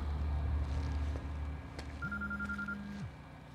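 A telephone ringing in the video game Quantum Break, a single quiet electronic ring tone that starts partway through and holds for about a second over low ambient rumble.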